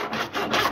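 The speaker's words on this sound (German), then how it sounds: "genau an dieser Stelle gehen wir jetzt mit unserer Säge nochmal hinein und sägen praktisch jetzt" A hand saw cutting through the bone of a roe deer carcass, separating the back from the haunch: close, rough rasping strokes in a quick back-and-forth rhythm, loud and alone.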